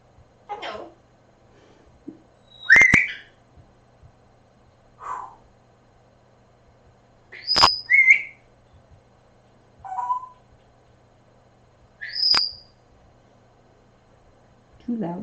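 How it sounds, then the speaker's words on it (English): Loud, sharp bird whistles and squawks come in bursts every couple of seconds over a quiet room hum, very close. "Two loud birds."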